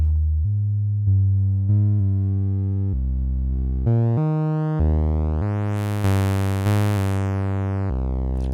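Infrasonic Audio Warp Core oscillator in kink warp mode plays a sequence of sustained synth notes that step in pitch, bright and harmonically rich, growing buzzier toward the end, with no voices.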